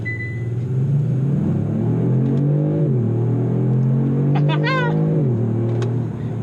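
Kia Stinger with a synthesized engine sound accelerating on a freeway, a steady droning engine note rising in pitch through the gears from inside the cabin, with a brief high chirp partway through and no talking.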